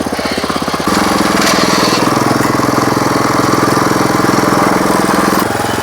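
A new power weeder's engine runs in reverse gear in a farm field, a loud, steady mechanical chug with fast rhythmic pulsing that surges up after the first second and holds until near the end.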